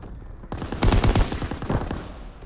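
Rapid video game gunfire in a war shooter, a loud close burst of automatic shots clustered in the middle of the moment, with a metallic ringing tail and no voices.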